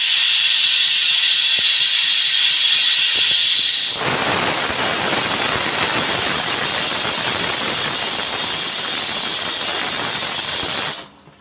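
A new pressure cooker cooking mutton curry hisses as its whistle releases steam, starting as a low hiss, then bursting into a loud, sustained shrill jet for about seven seconds before cutting off abruptly.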